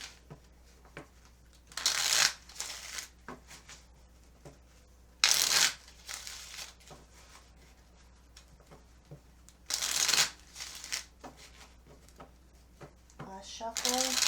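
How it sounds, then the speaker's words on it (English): A deck of cards is shuffled on camera in short riffle bursts, each a sharp close fluttering rush lasting about a second, separated by quieter handling and soft speech. "let's get started with the shuffling"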